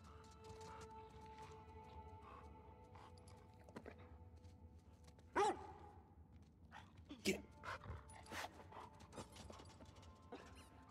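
A dog whimpers a couple of times in The Last of Us Part 2, faint cries over quiet game ambience and mechanical clicks.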